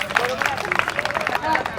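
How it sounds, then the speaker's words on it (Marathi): Guests at a Maharashtrian baby shower clap together after a quiz round, a burst of scattered hand claps mixed with lively crowd chatter and voices. "10 मार्क मिळाले, टाळ्या वाजवा."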